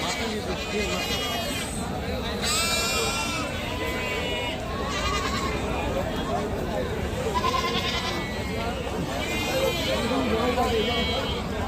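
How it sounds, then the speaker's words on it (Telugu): Sheep and goats bleat repeatedly at a busy livestock market in Vinukonda, their calls rising over steady crowd chatter and people talking nearby. "మేకల గొర్రెల మండి"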